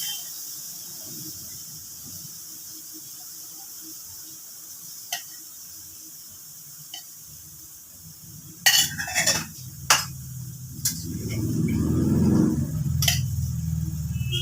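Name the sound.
spices frying and being stirred in a pan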